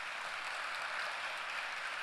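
Steady, fairly distant audience applause fills a ceremony hall at the Rwanga Awards 2018, given for staff and volunteers; dense and even, with no voices above it.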